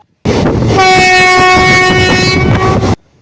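A train on the Shoranur–Nilambur railway line in Kerala sounds a loud, sustained horn blast of about two seconds over the heavy rumble and rattle of the passing train, close and dominating.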